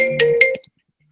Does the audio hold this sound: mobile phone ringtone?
yes